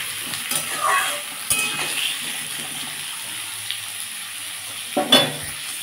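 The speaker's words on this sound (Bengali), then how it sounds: "আলু আর টমেটো দিয়ে দেবো, দিয়ে এগুলো ভাজবো" Potatoes and tomatoes fry in a pan for a Bengali fish curry, giving a low steady sizzle broken by a few stirring scrapes and clinks, with a louder clatter near the end.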